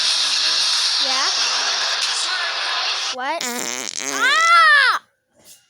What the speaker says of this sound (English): Why'd you just fart?